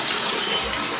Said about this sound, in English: Once the water rises up in the tank and you won't hear any more leaks, you can flush it